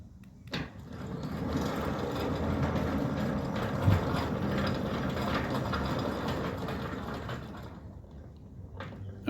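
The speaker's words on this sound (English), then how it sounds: "Centurion D6 Smart installed here in Alberton. Let's see how it runs." A Centurion D6 Smart sliding gate motor in Alberton drives a 4-metre steel gate, a steady mechanical whir and rumble with rattling from the moving gate, starting with a clunk and stopping after about eight seconds.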